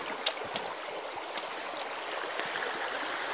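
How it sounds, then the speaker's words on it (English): Steady rushing and trickling of water running through a newly set up gold sluice box outdoors, a continuous even wash with faint splashes and no talking. "right now the sluice is clearing itself out"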